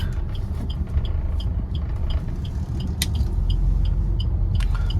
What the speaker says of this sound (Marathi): तर हा बघा गाडी पुढे चालली